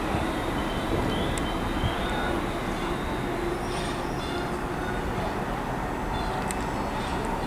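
A train pulls out of Romford station on the Great Eastern Main Line, a loud, continuous rumble of wheels and carriages rolling past close by, with occasional light squeals high above.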